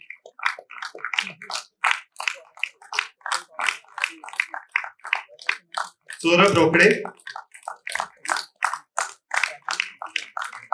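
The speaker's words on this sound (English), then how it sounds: "The applause should continue, please." Audience applause at a graduation convocation, a steady run of rhythmic claps lasting throughout, with a brief louder burst midway as a name is read out over a public address.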